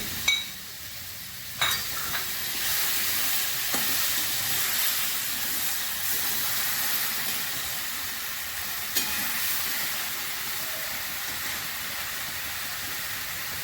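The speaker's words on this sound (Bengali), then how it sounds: "এবার আমি চিংড়ি মাছগুলো দিয়ে দিচ্ছি।" Prawns dropped into a pan of cooking ash gourd, giving a steady soft sizzle with a few sharp clatters and stirring knocks, close and continuous with no voices.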